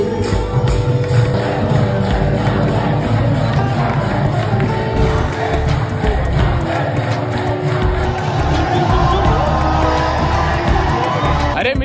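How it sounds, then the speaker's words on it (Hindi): A dense, loud festival crowd surges at Holi near the Balaram temple in Vrindavan, with constant shouting, whoops and cheering blending into a steady roar. "वो देखो तो भीड़ कितनी है वहाँ पर। हाँ बहुत बहुत ज्यादा भीड़ है देखो"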